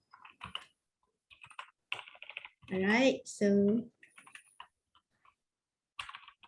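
Quick keyboard clicks from someone typing a contact phone number into a chat room on a computer, coming in short bursts between stretches of talk.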